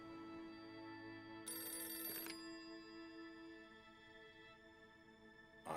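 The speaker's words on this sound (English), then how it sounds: "Then the telephone rang." A telephone bell rings in one clear burst of about a second, then stops, leaving a steady tonal background and no talk.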